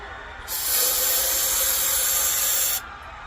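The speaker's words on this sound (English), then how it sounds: "Sprayed some carburetor cleaner down in it, put it in this cup." Carburetor cleaner sprays from an aerosol can down into the pump tube of a 1930s KampKook camp stove, a single steady loud hiss lasting about two seconds, close by, with a quiet pause before and after.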